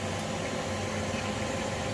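Nineteen tapioca-flour-coated chicken wings sizzle in the air crisp basket of a Ninja Foodi Grill Pro, a close, continuous hiss blended with the fan's steady whir, with no talking.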